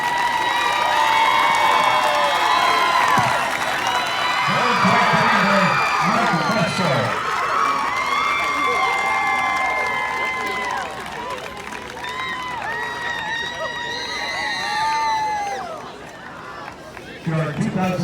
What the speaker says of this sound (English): nice round of applause for these teams